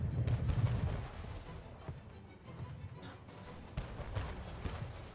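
Naval battle in Anno 1800 with cannon fire between steamships: repeated heavy low booms and rumbling blasts, loud and close, in irregular bursts over a continuous roar of battle.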